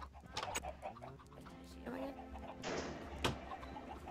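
Chicken clucking from a Minecraft modpack game world, a few short clucks at moderate level mixed in with other game sounds and some background noise.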